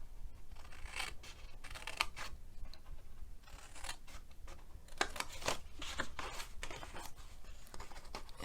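Paper is cut with scissors along a marked line, giving soft, quiet snipping strokes in uneven bursts with short pauses between them.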